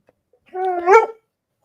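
Dog whimpering indoors, one close, loud whine rising in pitch and then fading, alone in an otherwise quiet room.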